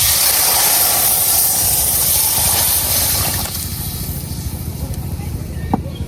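Lentils tipped into a pan of fried chopped onion and garlic for a village-style jackfruit-seed dal, giving a steady loud hiss and sizzle that eases and quietens partway through, with faint voices in the background.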